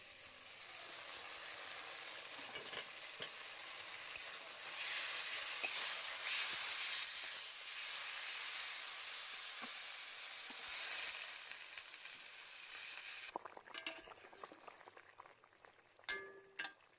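Fried potatoes and drumstick pieces stirred through spice paste in a hot pan, a steady soft sizzle with repeated scraping and clicking of a spatula, ending in a few louder knocks against the pan.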